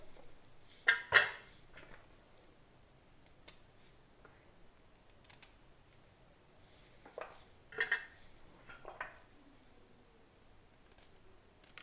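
A knife slices the sides off sweet potatoes on a cutting board in a home kitchen, producing a few sharp, close cuts and knocks in two clusters with quiet pauses between them.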